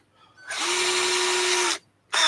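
A loud, close power drill whines steadily for over a second while drilling a hole for a clarifier mod on a Cobra 2000 radio, stops, then starts again briefly.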